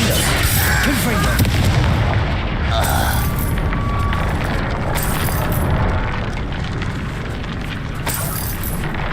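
Confringo fire-spell blasts in Hogwarts Legacy combat, a dense run of loud booming explosions and rumbling impacts that barely let up, with a voice cutting in now and then.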